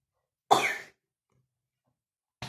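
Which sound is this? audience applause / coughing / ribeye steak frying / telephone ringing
coughing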